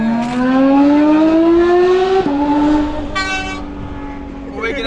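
Loud Porsche GT3 RS with an aftermarket exhaust revving up in a rising, high-pitched wail, briefly dipping before climbing again; voices talk over it.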